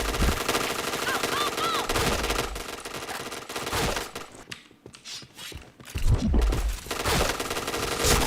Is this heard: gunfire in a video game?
yes